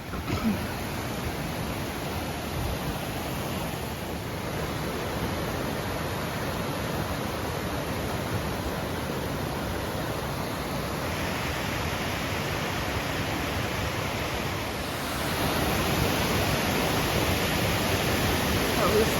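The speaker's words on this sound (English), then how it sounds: "I'm just taking a video of the waterfall" A waterfall on the Appalachian approach trail roars as a steady, dense rush of falling water, loud and continuous throughout, with no voices over it.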